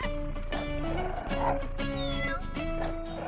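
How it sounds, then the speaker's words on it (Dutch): A cartoon kitten meows a few times over a busy backdrop of music, with the meows blending into the sustained tones. "Het lijkt erop dat dit katje mee wil doen."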